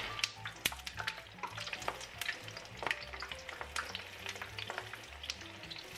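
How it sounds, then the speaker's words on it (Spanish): Steady crackling sizzle of potato and cheese sticks frying in hot oil, with dense popping bursts and occasional stirring clinks, close and continuous. "ya vamos a ir introduciendo los palitos en el aceite"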